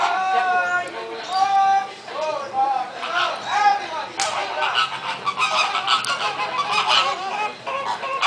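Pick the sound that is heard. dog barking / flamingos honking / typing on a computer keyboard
flamingos honking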